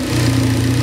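A K-series Honda Civic engine idles steadily and loudly nearby, giving a smooth, even hum with no revving or changes in pitch.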